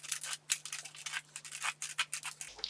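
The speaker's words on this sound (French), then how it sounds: "les ciseaux cranteurs." Several quick crisp snips of pinking shears cutting through paper, close up and rhythmic, in a quiet room.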